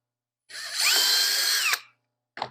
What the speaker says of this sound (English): that's a 277 diameter drill